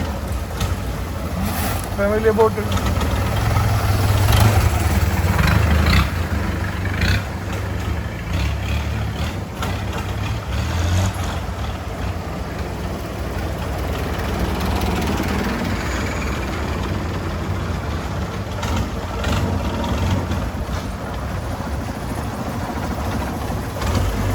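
A large long-tail boat's engine drones loudly and steadily at Damnoen Saduak floating market, rumbling on for the whole stretch with voices faintly mixed into the busy background.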